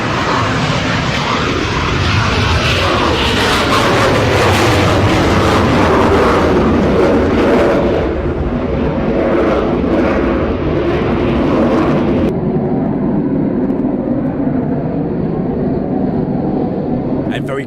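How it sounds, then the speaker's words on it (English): A military aircraft at RAF Coningsby roars loudly nearby, a broad, powerful engine rush that swells and shifts in pitch, then thins to a duller rumble for the last few seconds. "we'll keep the aircraft rolling like this from Coningsby"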